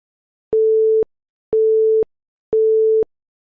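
Three identical beeps of a telephone busy tone, each about half a second long with even half-second gaps, steady and clear on its own.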